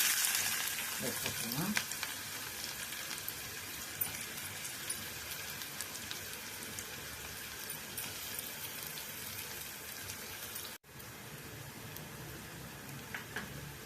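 Steady sizzling of finely chopped onions frying in hot oil for mutton pepper chukka, a continuous crackling hiss with occasional small pops, no talking.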